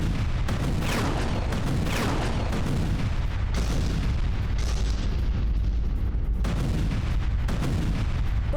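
Explosions from a Hezbollah missile attack on an Israeli base roar as a dense, continuous barrage of booms and rumbling blasts, loud and sustained with no voices.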